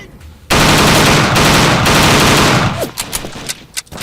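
Sustained machine gun fire in the World War II shooter Übersoldier, loud and continuous bursts inside a bunker that cut off after a few seconds, leaving scattered fainter shots and clatter.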